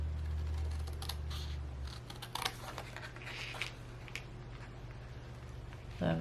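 Paper card pieces for a slit Z fun fold Christmas card are cut with scissors: scattered short snips and paper rustles over a steady low hum, fairly close.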